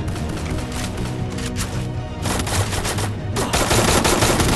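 Video game gunfire with headshots on an online shooter server: loud, continuous automatic bursts with rapid overlapping cracks, close and relentless, rising slightly in intensity toward the end.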